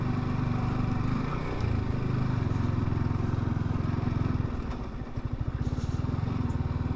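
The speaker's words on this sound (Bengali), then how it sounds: "বাইক এখানে পার্কিং করব" A motorcycle engine idling and running close by, a steady loud low throbbing with rapid pulsing firing, briefly dipping before settling into a chugging idle near the end.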